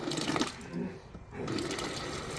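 Water rushes steadily through a refrigerator water line being flushed to clear air bubbles, a close hissing flow that briefly dips and then resumes at full strength.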